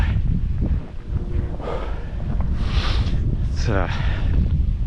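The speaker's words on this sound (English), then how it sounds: "I am getting just blasted by the wind." Strong wind blowing across a marshy area on the Portage Canal segment of the Ice Age Trail buffets the microphone with a constant loud low roar, with a voice speaking briefly over it.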